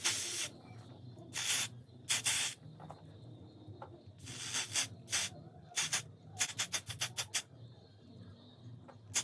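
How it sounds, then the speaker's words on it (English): Got2b glue sprayed from an aerosol can onto the lace of a ghost bond wig install: a series of close hissing bursts, a few longer ones first and then a rapid run of short spritzes. "spray a bunch of got to be glue on the ghost bond area"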